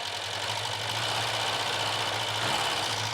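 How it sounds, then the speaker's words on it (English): The engine of a barn find car, run for the first time in ten years, idles with a slight misfire, a steady close rumble with an uneven low throb and a faint stumble near the end. "Definitely misfiring still slightly."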